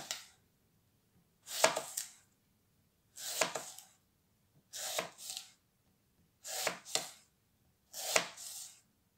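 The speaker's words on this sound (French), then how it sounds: "je peux couper en tirant ou en hachant" A santoku knife with a VG10 suminagashi blade and a stabilized poplar handle slices thinly through an apple, five separate crisp cutting strokes, each a short double rasp, spaced about two seconds apart in a quiet room.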